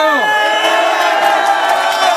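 Large crowd at a South Korean political election rally cheers and shouts loudly and continuously, with mixed voices and whoops blending into a steady roar.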